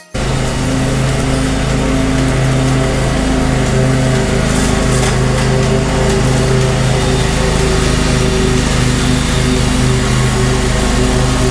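Lawn mower cutting a front and back yard, its small engine droning loud and steady throughout with a constant hum, close to the listener and with no talking.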